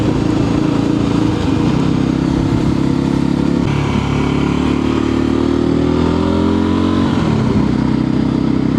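A motorcycle with a slick, smooth gearbox rides along a flood-damaged trail in Spain. The engine drones loud and steady throughout, rising and falling as the gears change and the throttle opens, with no talk.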